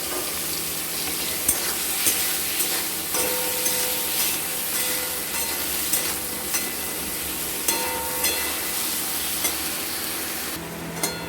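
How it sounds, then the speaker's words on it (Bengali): Eggplant pieces fry with potatoes in a pan, giving a steady, close sizzle broken by regular scraping and knocking from stirring, with no talking. "বেগুনগুলো একটু আমরা লাল লাল করে ভেজে নেব আলুর সাথে।"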